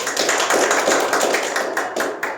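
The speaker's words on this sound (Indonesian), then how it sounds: "Berikan aplaus untuk Hafiz" A classroom of students applauds a pupil named Hafiz, with dense, steady clapping filling about two seconds before tapering slightly at the end.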